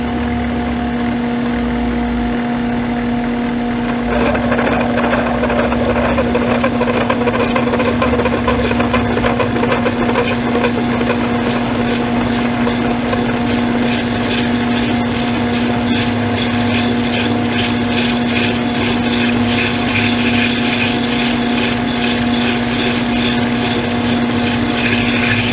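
Jet metal lathe turning a steel lead screw support bracket toward a near-full radius through drilled half-inch holes, a steady motor hum with a strong tonal whine and faint rhythmic chatter starting, continuous and close.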